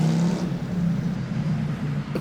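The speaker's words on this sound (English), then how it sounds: "I always hear the sound of the engine coming through streets." A car engine drones steadily on a street, a low rumble at moderate distance that carries through the whole stretch without speech.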